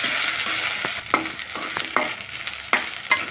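Potato, onion and ginger-garlic paste fry in a pan, giving a steady sizzle broken by sharp scraping strokes of a spatula against the metal every half second or so, close up with no voices.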